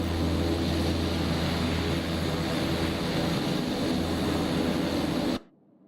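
A Lockheed L-1049 Constellation propeller airliner drones loud and close in flight during a hurricane-hunting trip, its engine roar steady and dense until it cuts off abruptly near the end.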